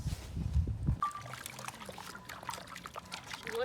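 Water pours and trickles over a pumpkin being washed outdoors in a Ugandan village, a steady splashing dribble with light clatter, close by and moderately loud, no voices.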